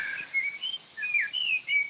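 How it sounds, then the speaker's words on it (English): Several bright bird chirps and whistled calls repeat in short bursts, clear and fairly close, with no voices. "beautiful sound of the birds and the winds breezing"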